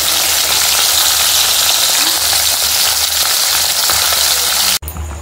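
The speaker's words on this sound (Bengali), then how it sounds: "এখানে ইলিশ মাছগুলো ভাজতে বসিয়ে দিয়েছি" Hilsa fish pieces frying in oil, a loud, dense, continuous hiss of sizzling close by that cuts off abruptly near the end.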